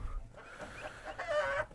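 Young turkey poults about two and a half weeks old, Hybrid Converter breed, peep and chirp in their pen with a rising high call near the end, close by and fairly quiet.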